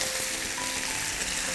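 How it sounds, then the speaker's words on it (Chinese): Chicken breast pan-fries over high heat in a wok, giving a loud, dense, unbroken sizzle that stays close and even throughout. "煎的时候让它慢慢先定型，把表面这个让它锁住水分，我们再翻面煎它"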